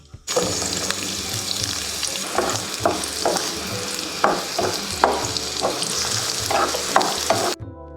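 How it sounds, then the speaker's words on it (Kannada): Garlic and onion fry in a spoonful or two of oil in a pan, a close, continuous sizzle broken by repeated scraping stirs, with no talking. "ಈಗ ಒಂದು ಪ್ಯಾನ್ಗೆ 1-2 ಸ್ಪೂನ್ನಷ್ಟು ಎಣ್ಣೆ ಹಾಕಿ 1 ಬೌಲಷ್ಟು ಬೆಳ್ಳುಳ್ಳಿ ಹಾಕ್ತಾ ಇದ್ದೀನಿ"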